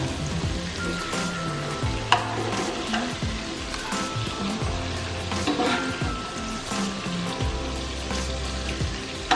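Chicken pieces fry in hot oil for a Kerala chicken biriyani, making a continuous close sizzle with occasional clinks and scrapes of a ladle in the pan.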